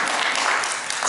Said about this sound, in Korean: 썸머한테 박수 한번 해주세요.